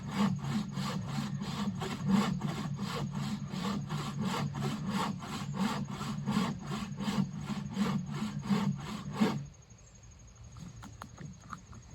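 Hand saw cutting through the final quarter inch of a dead tree trunk, a steady back-and-forth rasp of strokes for about nine seconds before stopping abruptly, followed by near silence with a few faint clicks.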